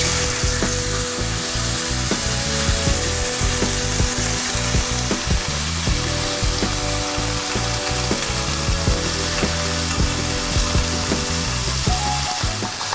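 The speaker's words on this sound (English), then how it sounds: "Before we put the pork in the oven, we need to seal them off in a hot pan." Pork pieces searing in a hot pan give off a dense, steady sizzle and crackle, close and loud, with small scrapes and knocks of the meat being moved around and no talking.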